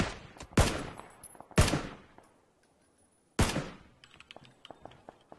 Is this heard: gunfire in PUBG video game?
yes